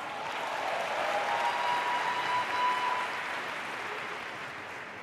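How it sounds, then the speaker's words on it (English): Steady round of applause from a seated audience at a business presentation, a smooth, continuous wash of clapping that swells slightly midway and then tapers off, moderately loud and without talk over it. "Can you guys give Sharice a huge round of applause?"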